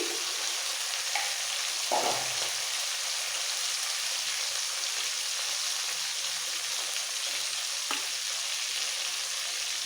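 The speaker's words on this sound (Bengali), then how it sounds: "এবার একটু নাড়াচাড়া করে কষিয়ে নেবো" Tomatoes for rohu fish curry fry in a pan, giving an even, hissing sizzle throughout, with a couple of soft stirring knocks near the start and end; no speech.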